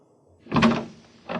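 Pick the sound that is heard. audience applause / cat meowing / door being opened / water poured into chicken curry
door being opened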